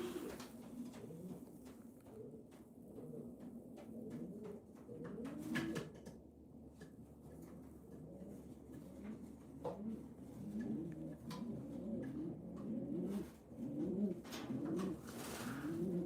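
Pigeons coo repeatedly inside a loft at night, a steady overlapping chorus of soft, low, throaty calls close by, with occasional faint knocks and rustles.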